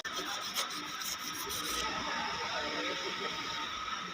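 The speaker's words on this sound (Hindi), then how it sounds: "तो आपने इस तरीके से इस पर रेगमाल कर लेना है" Sandpaper rubbed by hand on the upper shaft of a Siruba flatlock sewing machine, a continuous close scraping rasp lasting about four seconds with light rhythmic strokes at the start.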